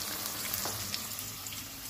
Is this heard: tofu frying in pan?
yes